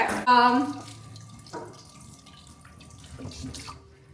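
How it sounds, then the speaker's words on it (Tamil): Curry leaves being washed under running tap water in a home kitchen sink, a brief splashing gush followed by a steady quiet trickle and small drips. "கருவேப்பில கழுவி கொண்டிருக்கிறேன்."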